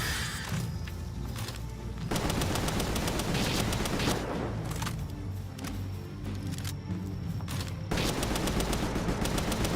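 Bursts of rapid gunfire from a player's gun in the video game Palworld, loud and close, in long stretches that break off briefly and then start again.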